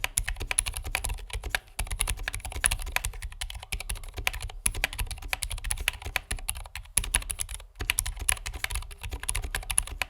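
Typing on a JTK Hyperfuse keyboard fitted with lubed Zeal Zilent V2 switches and ABS keycaps: dense, rapid muted thocks in continuous bursts with short pauses, close and alone.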